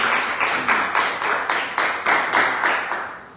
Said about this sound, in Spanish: Un aplauso al doctor